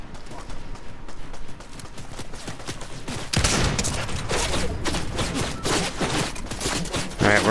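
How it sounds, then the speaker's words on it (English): Video game gunfire crackles in rapid volleys of close, loud shots, a dense fusillade that grows more intense partway through. "Where? Where are they shooting?"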